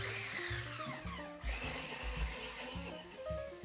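An electric hand mixer whirs steadily while beating an egg into sweet dough with powdered sugar, its motor drone continuous and close with slight pitch shifts as the beaters work the batter, and no speech over it.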